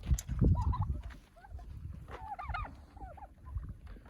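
Turkeys, including blue and dark hens and males, give short gobbling and yelping calls close by over low background noise and rustling, several bursts over a few seconds.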